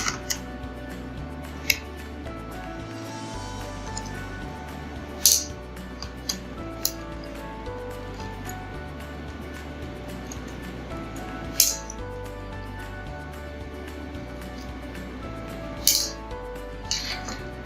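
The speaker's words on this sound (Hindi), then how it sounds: "ये सारी जगह इसके स्क्रू लगे हुए हैं, तो इसको हम 1 बाय 1 करके ओपन करेंगे।" Small screws being undone one by one from a computer keyboard during a repair, giving sparse, faint metallic clicks and scrapes close by with quiet gaps between them.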